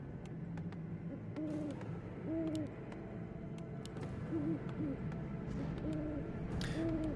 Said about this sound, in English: It's called a snowy owl when we don't have any snow on the map, chat.